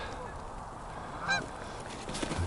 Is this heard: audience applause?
no